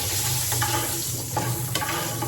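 Lentil dumplings (bori) fry in hot oil that was used earlier for frying fish, giving a continuous dense sizzle close by with a few soft stirring clinks.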